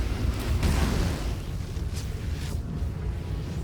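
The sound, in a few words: explosion from lightning hitting explosive, Baldur's Gate 3 video game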